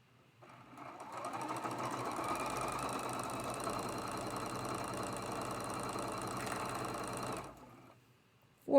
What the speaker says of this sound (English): We're just doing some chain stitching.